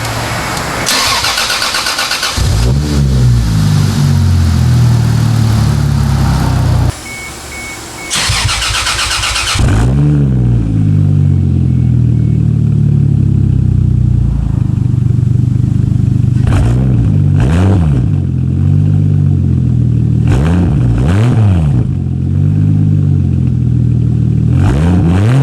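A Toyota Supra MKIII with a swapped 2JZ-GTE Aristo engine cranks and fires up, settles into a rough idle, then barks out loud repeated rev blips up close.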